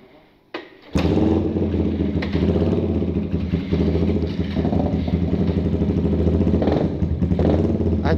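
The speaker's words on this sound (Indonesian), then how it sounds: "knalpotnya bacot kabeh" Loud Suzuki Satria FU motorcycle exhausts roaring together during a group night ride in Bandung, a steady close, heavy engine drone kicking in after a brief quieter start and continuing without pause.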